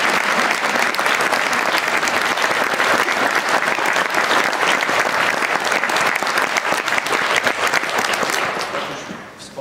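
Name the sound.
audience applause for Zbyszek at an accordion gala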